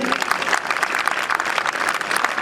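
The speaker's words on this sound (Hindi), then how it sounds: "अगर अच्छा लगा तो जोर से तालियां बजाइए" Loud, dense applause from a large audience at a Republic Day school function, steady and sustained throughout with no voices rising above it.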